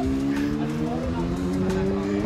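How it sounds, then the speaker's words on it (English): A street bike's engine hums steadily up close with sustained harmonic drone throughout, tagged more like a car though; rough road noise underneath. "That's Jason and Noah on a street bike"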